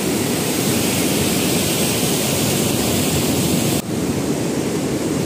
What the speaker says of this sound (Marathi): हे गोदावरीचं सगळं पाणी जायकवाडी धरणाला जातं। पाण्याचं स्पीड बघा, एकदम स्पीड आहे।